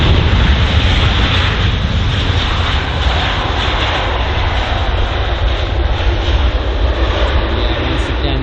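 An Air Canada airliner lands at London Heathrow, producing a loud, steady, broadband jet engine roar that persists throughout without any voices.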